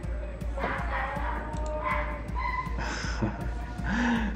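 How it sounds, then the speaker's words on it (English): Several dogs bark and yip in short bursts at a moderate distance, over a steady low background hum. "Yeah, you guys can hear the dogs barking."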